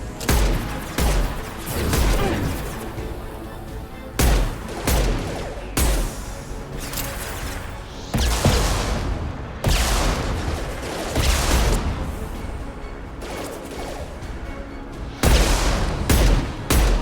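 Bursts of gunfire in the video game Mass Effect 2, loud repeated volleys and sustained rapid shooting separated by short pauses, with no speech.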